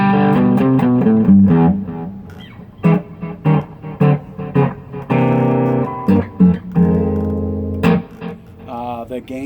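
A Stratocaster with a DiMarzio Titan pickup plays through a Tech 21 pedal with delay switched on: loud, slightly distorted notes and chords with sharp attacks that ring and decay between strikes.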